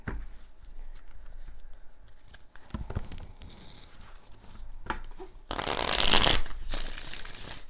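A burst of rapid riffling tarot card shuffling, crisp papery flutter rising loud for about two seconds, after quieter scattered taps and handling.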